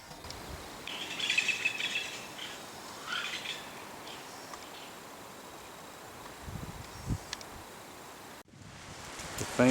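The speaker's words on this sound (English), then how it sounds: "The famous green jay." Green jay calls faintly in a South Texas evening setting, a few scattered chirps over a dense, steady wash of insects and rustling, quiet and at a distance.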